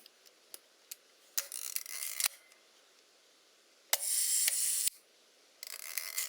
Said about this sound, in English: can try cock the shutter and see what's happened.